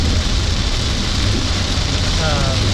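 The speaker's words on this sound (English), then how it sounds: "This is very, very rainy." Heavy rain drums loudly and steadily on a car during a rainy drive home with four-wheel drive engaged, a dense wash of noise with no pauses.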